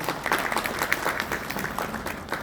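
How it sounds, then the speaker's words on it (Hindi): Hands clap in warm applause from the audience at a Garhwal association swearing-in ceremony, welcoming a speaker with a dense, lively patter of many clappers and a few sharper accents rising above it. "हेमंत साहब को हम आमंत्रित जोरदार तालियों से स्वागत करते हैं।"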